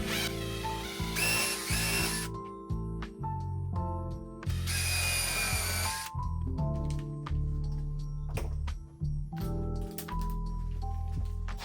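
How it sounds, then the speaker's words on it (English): A drill with a countersink bit bores into a wooden ledge on a DIY wooden door with a window, then drives two screws, heard as close whirring bursts that ratchet and stall between pauses. "I'll use a countersink bit and then 2 screws"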